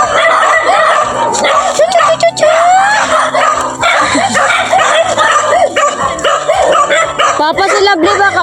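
Several dogs bark, yip and whimper in loud, overlapping bursts close by throughout, with people talking among them.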